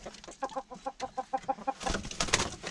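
Chicken clucking in a backyard flock, a run of about ten short evenly spaced clucks close by, then a louder burst of squawking and flapping at the end.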